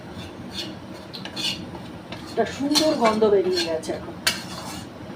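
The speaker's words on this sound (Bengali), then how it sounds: "এই গরম কড়াইতে এটাকে নাড়াচাড়া করছি" Gram flour being stirred in a hot wok for besan halua, with utensils scraping and clinking against the pan in an irregular rhythm, close and moderately loud, while a person talks over it.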